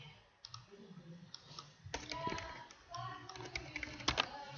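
Mouse clicks on a computer while building a game in PowerPoint, sharp close clicks scattered among rustling desk handling, with a busier burst of clicking in the second half.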